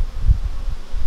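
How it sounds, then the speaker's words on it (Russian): Wind gusts buffet an apiary, a low rumbling, uneven rush with a soft rustle, close and moderately loud without speech. "О, ветер надувает."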